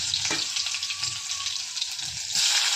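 Garlic sizzles in hot oil in a pan while cooking sprouted moth bean usal, a steady, bright, close frying hiss that runs throughout with a small swell near the end.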